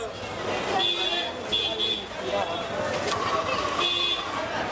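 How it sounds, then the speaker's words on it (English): Busy Indian city street ambience with a steady wash of traffic, voices chattering throughout and short horn toots popping out now and then. "To most people, a crowded city street in India sounds like this."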